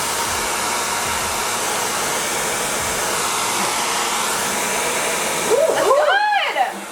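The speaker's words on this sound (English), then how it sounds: "somebody used a hairdryer to stretch the wallpaper" A hair dryer blows with a loud, steady roar close by, heating wallpaper to stretch it, then its pitch wavers and warbles near the end as it moves.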